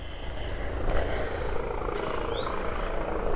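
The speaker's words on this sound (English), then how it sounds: "Rescue helicopter over there." Large yellow rescue helicopter flying over the Somerset Levels near Meare, a steady distant rotor rumble under faint outdoor ambience.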